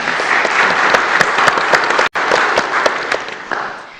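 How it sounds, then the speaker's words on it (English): A city commission meeting audience applauds Publix supermarkets as an outstanding business, loud dense clapping from a crowd that stops abruptly for a split second midway, then resumes just as strongly. "join me in a round of applause for Publix for being an outstanding business"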